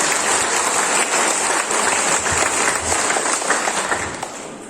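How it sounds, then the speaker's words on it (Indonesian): Audience applause fills the hall at an election campaign launch, a dense steady clapping that runs loud and continuous throughout, tapering slightly at the end. "Beri tepukan kepada calon kita."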